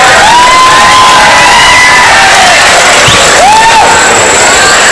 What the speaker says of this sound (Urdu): ارے تالی والی بجاؤ بھائی۔